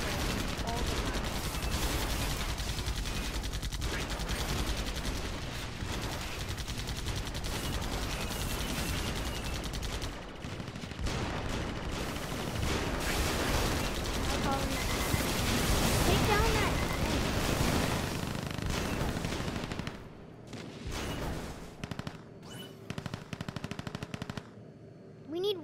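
Rapid machine-gun bursts and explosive gunfire in the online game AirMech Arena rattle almost continuously, dense and loud, easing into sparser shots near the end, with a player's voice talking over parts of it.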